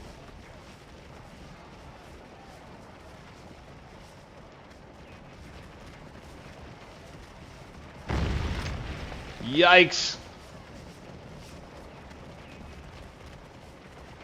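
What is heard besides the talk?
cannons firing canister shot in Scourge of War video game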